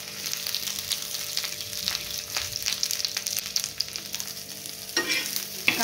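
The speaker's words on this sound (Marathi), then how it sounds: "सगळ्यात पहिले आपण कांदा भाजून घेऊ." Onion roasting in oil in a pan, a steady close sizzle with occasional spatula scrapes and stirring, rising to a brief louder clatter near the end.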